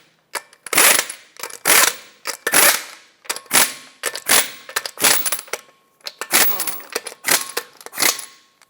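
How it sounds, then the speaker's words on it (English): A torque wrench tightens lug nuts on a 2014–2021 Mazda 6 to 80 foot-pounds, giving a series of sharp, close ratcheting clicks in separate bursts with short pauses between them. "you want to torque these to 80 foot-pounds"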